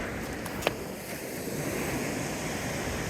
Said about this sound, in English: now that we're at the beach, it's Sunset Beach